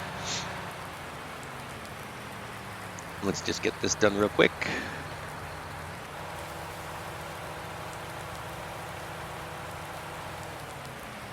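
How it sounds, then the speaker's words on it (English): Light rain falls steadily in Farming Simulator 19 as a soft, even hiss, while someone speaks briefly over it. "it is raining and rain will mess up my grass"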